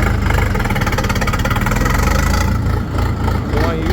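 Close, loud engine chugging of a small 50 hp DTZ tractor, with a rapid, steady pulse that shifts and surges partway through as the throttle changes.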